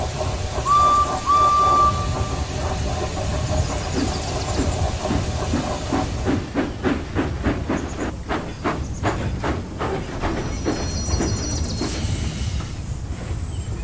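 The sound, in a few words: railway engine pulling coaches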